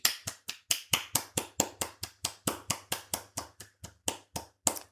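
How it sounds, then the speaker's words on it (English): One person clapping alone, about twenty crisp, close hand claps in a quick, slightly uneven rhythm, in an otherwise quiet room. "That deserves a clap."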